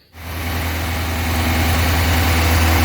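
A Chevrolet Chevette engine on a new carburetor starts and settles into a smooth, steady high idle, a loud close rumble with a constant low hum and no speech.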